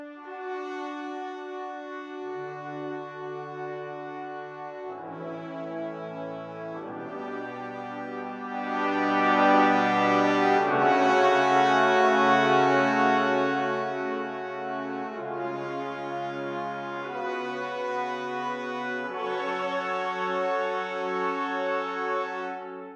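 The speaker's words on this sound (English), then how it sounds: "Soft, open, brass sustains." Soft, open brass sustains from an orchestral sample library, slow overlapping held chords that swell gently in the middle and settle again, mellow and unhurried with no voices.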